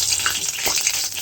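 Cumin seeds, dry red chillies and bay leaves sizzle steadily in hot oil in a pan for ghugni, a dense, continuous close-up frying hiss with no voices.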